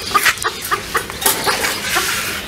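Clucking chickens, English Game and Mini Flower birds, at a Multan bird market, with repeated short calls close by over a busy background.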